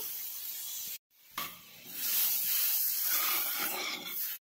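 Butter sizzles and hisses in a hot wok, a steady loud frying hiss broken by a brief silence near the start and another at the very end, with no voices.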